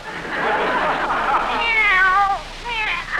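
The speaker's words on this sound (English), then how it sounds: "Lately, that cat's been as jumpy as a person." A kitten's meows in an old-time radio comedy, a drawn-out wavering cry followed by a shorter second meow, loud and close with a voice briefly underneath.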